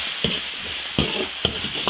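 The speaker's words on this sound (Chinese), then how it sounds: "把牛蛋炒香" Bull testicles are stir-fried in a wok with ginger, garlic, chili sauce, Sichuan peppercorns and dried chilies, giving a steady close sizzle broken by a few scraping stirs.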